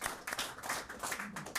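A campaign-event crowd at a New Hampshire town hall claps and cheers in a steady, dense burst of applause that runs throughout the short moment, fairly distant and moderately loud.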